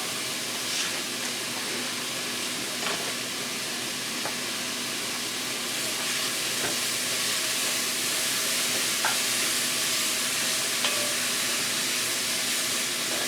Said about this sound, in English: And I'm going to add my leftover Thanksgiving turkey. So I want to get it warmed up.